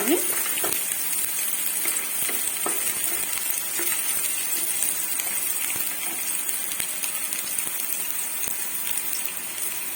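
Onion fries in a pan with a dense, steady sizzle and crackle, with scattered clicks of stirring throughout.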